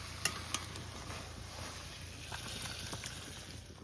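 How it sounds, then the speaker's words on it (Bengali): Spices tempering in hot oil left in the pan after frying prawns, with lemon leaves and cumin added, make a faint, steady sizzle broken by a few soft pops and stirring clicks. "এখন একটু নামিয়ে তেল ফোড়ন দেবো।"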